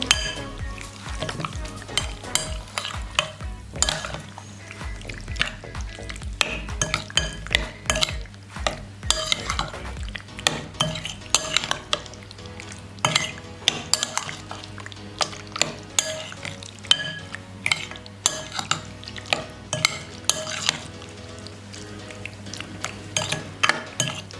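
Chicken being mixed with powdered spices in a pot for chicken jalfrezi, with steady scraping and stirring strokes, clinks of a utensil against the metal and a light sizzle throughout, close and moderately loud with no talking.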